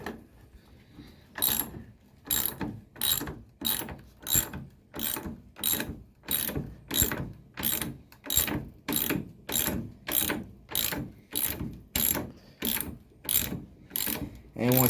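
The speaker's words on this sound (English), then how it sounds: "Now, let's tighten these up. Let's tighten these guys down." A ratchet tightens screws into a wooden feast table, giving a steady run of about twenty loud, evenly spaced clicking strokes up close, with no talking.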